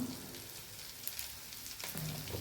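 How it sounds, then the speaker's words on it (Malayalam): Sliced onions sautéing in a pan over a low flame, a steady soft sizzle with faint crackles throughout, fairly quiet and close. "അപ്പം നമ്മൾ ഇട്ട് കൊടുത്ത സവാള ഉള്ളിയൊക്കെ നന്നായിട്ട് വഴന്ന് കിട്ടിയിട്ടുണ്ട് കേട്ടോ."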